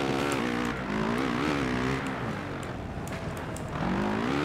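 A Suzuki motocross motorcycle engine in the MXGP video game, a loud, steady buzzing drone whose pitch rises and falls as the throttle revs and eases, close and alone throughout.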